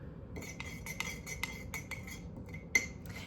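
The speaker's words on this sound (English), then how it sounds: "pour these into one another and mix it up" A spoon clinks rapidly against the sides of a mug while stirring wet mug cake ingredients, a quick, steady series of close metallic taps.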